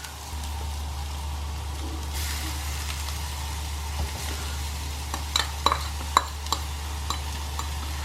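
Carrots and beetroot tipped into a pan of frying onions for veg cutlets, a steady sizzle running throughout with scattered clinks and stirring scrapes toward the end.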